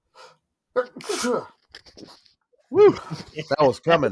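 A person sneezes loudly once in the middle of a casual conversation, with several people talking and laughing around it in a podcast setting.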